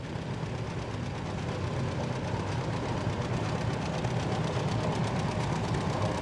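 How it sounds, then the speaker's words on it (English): A 1946 John Deere Model B tractor runs steadily at an outdoor tractor show and pull, giving a continuous loud low engine drone with a rapid regular thumping beat throughout. "He's in his 1946 B model John Deere."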